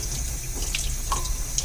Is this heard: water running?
yes